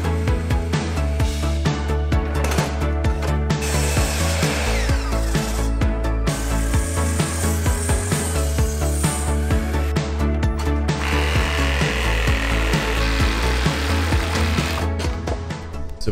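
A power saw cuts a wooden pergola brace in half, a loud continuous buzzing and grinding with rattling vibration close by, easing off near the end.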